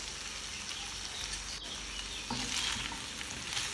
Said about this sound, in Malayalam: അത് കഴിഞ്ഞ് കുറച്ച് ബ്രോക്കോളി ആഡ് ചെയ്ത് കൊടുക്കുക.